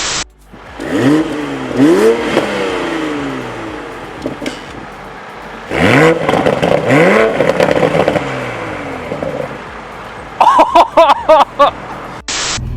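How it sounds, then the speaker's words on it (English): A 2020 Toyota Supra's inline-six exhaust snarls through several rising acceleration sweeps, gear changes between them, with crackling pops near the end. "the exhaust note is absolutely intoxicating"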